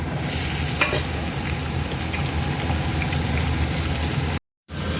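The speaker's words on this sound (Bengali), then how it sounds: "আমি আলুটা লাল লাল করে নুন আর হলুদ দিয়ে ভাজবো। তো চলো আলুটাকে ছেড়ে দিই" Potatoes fry in hot oil, a dense, steady close sizzle with faint crackles and occasional stirring for about four seconds, then a brief drop to silence before the sizzling resumes; no one talks.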